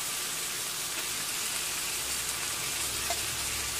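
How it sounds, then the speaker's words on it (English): Corned beef sautés in a pan, giving a constant, even sizzling hiss with no talk over it. "now we're going to saute our corned beef"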